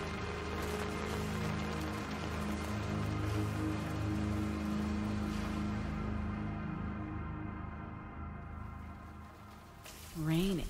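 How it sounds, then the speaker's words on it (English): Steady rain patters and hisses indoors inside a building in the survival horror game Daymare 1994 Sandcastle, with a continuous hum beneath it. A voice speaks briefly near the end. "Is it raining?"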